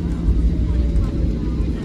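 Airplane taxiing onto the runway for departure on a first flight, a loud steady low engine drone heard from inside the cabin, with a voice speaking over it.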